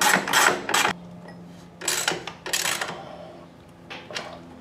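Metal clicks and ratcheting from a wrench tightening a bolt on a Honda CX500 motorcycle engine mount, several short bursts of close, loud mechanical clatter separated by quiet pauses, no talking.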